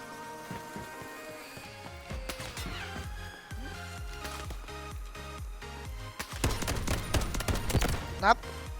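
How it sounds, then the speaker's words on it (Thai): Bots fire guns in the shooter game Delta Force, with bursts of sharp, rapid gunshots clustered together, growing heavier and denser toward the end. "บอทยิง"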